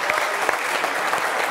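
A studio audience gives brief, dense applause for the Algerian national team, a loud continuous wash of clapping with no gaps.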